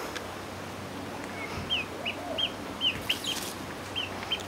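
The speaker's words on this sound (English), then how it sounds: "Little chicken." Faint clucking of a small chicken at a house by Lake Atitlan in Guatemala, a few short soft calls spaced apart over quiet outdoor background.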